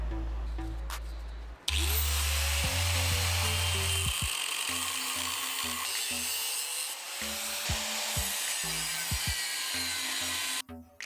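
A power grinder wears down a Honda Civic part being fitted for air suspension, a continuous harsh rasping whine that shifts in pitch, with brief motor revs and pauses between passes, loud and close, no speech.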